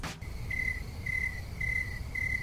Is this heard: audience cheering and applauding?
no